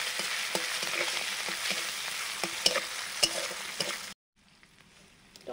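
Whole cumin seeds and dried chillies frying in hot oil for a potato curry, a steady close sizzle with stirring clatter and scattered sharp pops that stops abruptly near the end.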